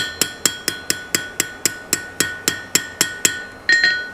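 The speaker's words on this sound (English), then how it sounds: "Hammer that ring just a little bit flat, and it just kind of blends right on up there." A hammer strikes a steel horse bit ring twelve times in a steady, even rhythm, each blow a bright, ringing metallic clink with a short decay, close and loud, the last blow heavier and longer-ringing.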